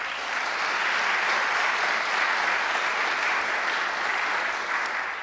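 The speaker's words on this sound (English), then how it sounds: "I think that deserves a round of applause." A crowd at a New York community college event led by Governor Kathy Hochul breaks into applause, a dense, even roar of clapping that holds steady throughout.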